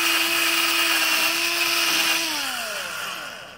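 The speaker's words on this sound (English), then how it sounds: "the way I do it is with electric drill and a wire brush" An electric drill spinning a wire brush to clean rust off a Bolens 3014H tractor, a steady whining motor tone that holds, then drops in pitch and winds down near the end, close and alone.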